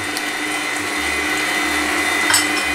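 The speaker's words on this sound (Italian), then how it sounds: "e ora il terzo aggiungiamo anche la grappa e facciamo finire di impastare la planetaria" A stand mixer kneads tortelli dough for Carnival fritters, with grappa added, producing a loud, steady motor hum up close and a repeating low thump as the dough turns in the bowl.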